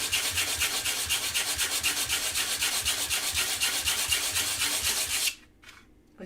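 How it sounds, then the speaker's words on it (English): Hand sanding with rough 100-grit sandpaper: loud, close, rapid back-and-forth scratchy strokes in a steady rhythm that stop abruptly near the end, leaving a few faint rubs. "just really rough sandpaper because I wanted to do that really quickly"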